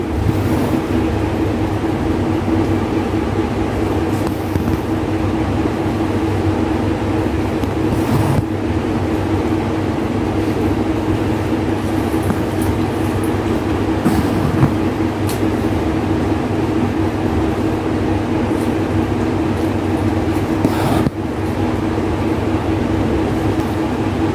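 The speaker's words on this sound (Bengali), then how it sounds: "তো আমি এখন মাঝখানের সেলাই করতেছি, একই রকম সেলাই করতেছি" A sewing machine runs continuously, stitching a seam on fabric with a steady, loud mechanical hum and whir, broken by a few short pauses and thumps.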